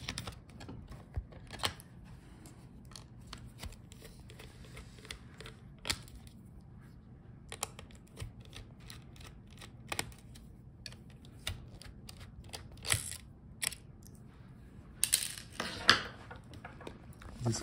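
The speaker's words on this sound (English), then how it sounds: "Take out these screws and disconnect it from the motherboard." Small screws being removed from the cooling fan inside an HP Omen Transcend 14 laptop: quiet, sporadic clicks and scrapes of a screwdriver on metal, close up and without speech.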